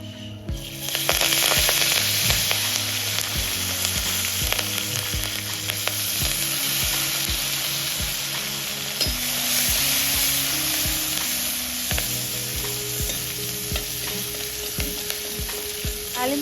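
Mustard seeds, cumin, asafoetida, turmeric, six dried red chillies, curry leaves and coriander sizzle steadily in hot oil for a tempering, with a constant crackling hiss and no talk. Background music plays under the sizzle.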